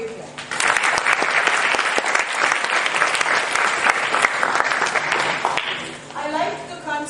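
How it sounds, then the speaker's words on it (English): A conference audience at IES-2010, IIT Guwahati, gives loud, sustained applause for student posters, with dense clapping for several seconds before it fades and voices start speaking. "so give them a big clap."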